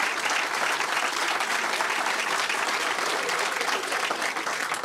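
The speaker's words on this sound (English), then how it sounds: "So they have their applause here" Sustained applause fills the House of Commons chamber, a dense, even wash of many hands clapping at once, steady and loud from start to finish with no break.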